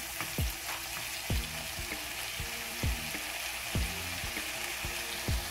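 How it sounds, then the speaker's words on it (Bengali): Chicken reshmi kebab curry masala with tomato purée frying in a pan over low to medium heat, a steady sizzle broken by regular scraping stirs roughly once a second, close and moderately loud with no voices. "আমি এটা ভেজে নেব"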